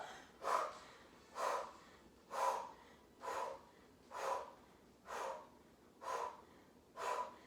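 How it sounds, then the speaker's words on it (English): Heavy rhythmic breathing during a barre core workout, eight strong exhalations at a steady pace of roughly one per second, close and alone with no talk. "You can hear me breathing."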